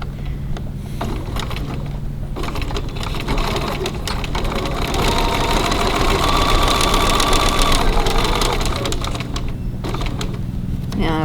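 A sewing machine stitches along the line of a wallet's slip pocket, a loud, close, rapid mechanical chatter running steadily without pause and growing slightly busier midway.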